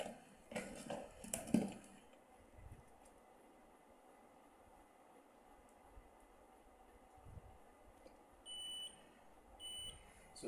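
A multimeter in continuity mode gives short, high beeps while a blender's wire is tested. The beeps are faint and come as a pair near the end, over low background hiss and a few earlier handling knocks.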